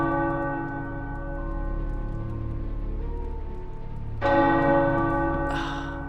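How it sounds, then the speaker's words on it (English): Tower bells ring in Marvel Midnight Suns, heard as a sustained, resonant tonal ring that swells louder near the end with a fresh strike, alone without talk. "The tower bells are ringing."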